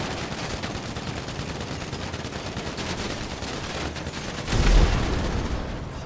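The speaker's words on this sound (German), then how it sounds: "bist du mal voll nah dran an den Explosionen" Gunfire and explosions in the video game GTA V during a drug wars mission: dense crackling shots layered over continuous noise, with a louder boom near the end, and no talking.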